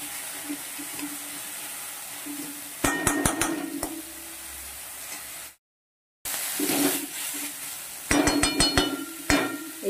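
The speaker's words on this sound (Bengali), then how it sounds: "এরপর দিয়ে দেবো টমেটো, এগুলো সব ভালো করে একটু ভেজে নিই" Tomatoes frying in a pan on a gas stove, a steady sizzle broken by bursts of clinking and scraping as the spatula stirs against the metal, close and moderately loud, with one brief cut to silence.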